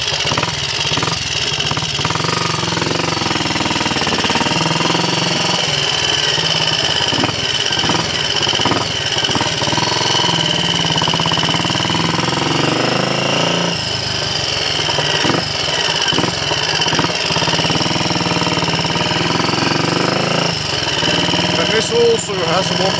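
Triumph Scrambles Cub replica motorcycle with a 375 monobloc carburettor borrowed from a Trials Cub and a 140 main jet, its single-cylinder engine running steadily and loudly throughout a test ride, with someone speaking over it.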